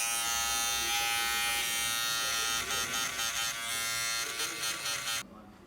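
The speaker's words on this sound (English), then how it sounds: "just nicely smooth the clipper into it" Electric hair clippers buzz steadily and close up while cutting a DIY skin fade, a continuous whirring drone that wavers as the blade is smoothed through the hair, then cuts off near the end.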